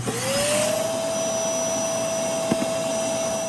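A Shark Vertex AZ2002 vacuum cleaner, dirty and neglected, running during a service test for lost suction: a steady close whine with a constant high motor tone and a brief click partway through.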